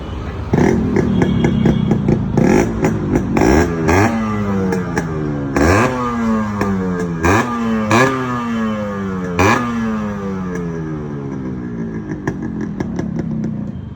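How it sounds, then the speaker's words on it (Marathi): A two-stroke Yamaha RX motorcycle engine revs repeatedly up and down in sharp bursts, loud and close, with rising whines between crackling throttle blips. "तर गाडीची फायरिंग ऐकत होतं."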